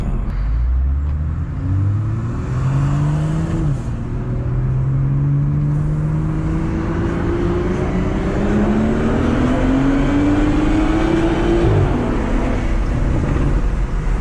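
A stock, untuned car engine climbs through the revs while driving at night in Mexico City, pulling steadily with rising pitch through several gear changes, close and continuous with no talking.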